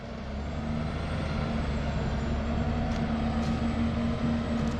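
A truck labours off-road up a steep mountain climb, its engine giving a steady, loud, droning rumble with a strained hum and no letup, while faint higher clanks surface briefly near the end.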